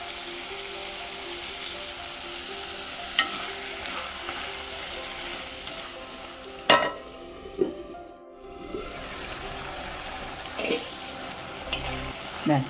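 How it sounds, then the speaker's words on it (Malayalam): Drumstick theeyal curry being stirred in a pan after tamarind water is poured in, with a steady low simmering sizzle and a few sharp scrapes and clinks of the spoon against the vessel. "പുളിവെള്ളം ഒഴിച്ചിട്ട് ഒരു 2 മിനിറ്റ് നമുക്ക് ഇതൊന്ന് ഇളക്കി കൊടുക്കാം."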